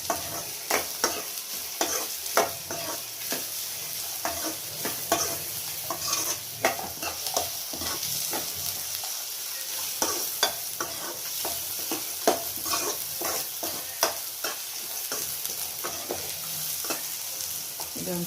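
Carrot and onion stir-frying in a pan for restaurant-style paneer fried rice: a steady close sizzle with frequent sharp scrapes and clacks of a spatula stirring, continuous throughout with no talking.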